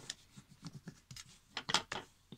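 Bone folder rubbing and creasing a paper envelope fold, a series of short scraping, rasping strokes of varying strength, close and fairly quiet, with no talking.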